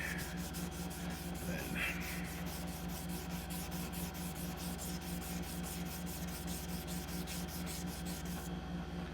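A chef's knife blade is hand sanded with fine grit, a continuous close scratchy rubbing with a steady rhythmic stroke pattern over a constant low background hum.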